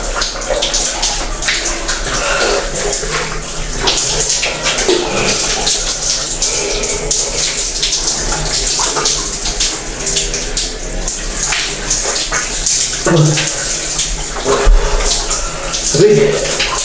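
Water running from a sink tap at a nature camp in Tanay, a loud continuous close splashing flow with faint voices in the background.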